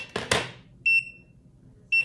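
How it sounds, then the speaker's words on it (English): A small device on a bling and glam table set gives short, bright electronic beeps after a couple of handling clicks, with a pair of beeps and then a single beep, close and clear, with no talking. "It's beeping to let me know that this is on."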